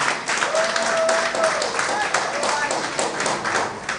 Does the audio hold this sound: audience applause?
yes